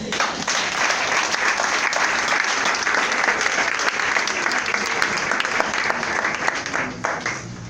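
A church congregation breaks into loud, sustained applause that fills the room at steady strength throughout, with voices mixed into the clapping.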